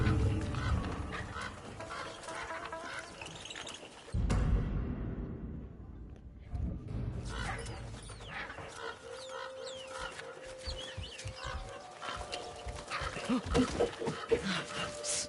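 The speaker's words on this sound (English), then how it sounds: "Some birds are fighting on the roof." Birds squabble on a roof in the video game Ghost of Yotei, a faint, busy clatter of squawks and honking calls over background game sound, broken by a brief lull.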